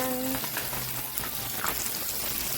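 Chicken pieces for scampi fry in a pan, giving a dense, close, continuous sizzle with faint crackles throughout.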